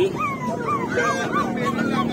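Several dogs at a busy pet market yelp and whimper in a rapid run of short, high cries, close by over a steady crowd murmur.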